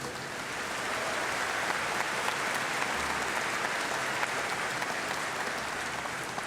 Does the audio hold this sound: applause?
yes